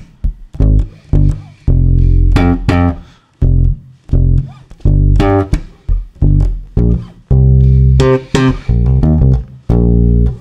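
Funky slap bass riff, close and loud, mixing deep thumb-plucked notes with sharp popped ones in a choppy, syncopated rhythm with short gaps.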